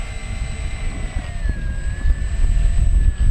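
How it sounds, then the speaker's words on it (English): An FMS P-51 Mustang Racer RC model plane accelerating for takeoff, its electric motor whine rising steadily in pitch over a rumbling ground roll, close and growing louder. "holding the stick back, easing the speed in. There we go, getting that tail up."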